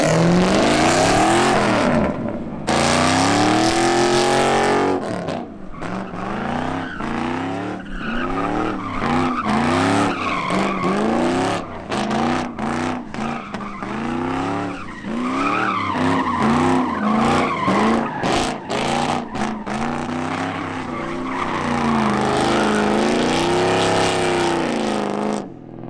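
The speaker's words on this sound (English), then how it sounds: "now we're gonna see the Mustang swing" Ford Mustang swinging around with its engine revving hard and tires squealing and skidding across pavement, loud and close, with sustained engine tones rising and falling over roughly twenty-five seconds.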